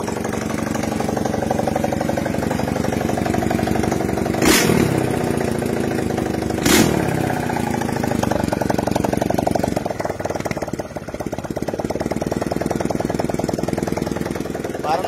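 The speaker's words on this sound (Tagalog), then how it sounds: "running na yung 4 valve natin" A four-valve GY6 motorcycle engine idles steadily with a rough, rapid chugging, interrupted by two sharp clacks, continuing alone without talk.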